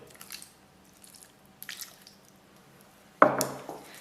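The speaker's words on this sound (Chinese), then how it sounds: "再倒入一些花椒水" Sichuan peppercorn water goes into a meat filling mixture for pan-fried stuffed buns, a few faint wet drips and squishes, then a louder splash near the end in a quiet kitchen.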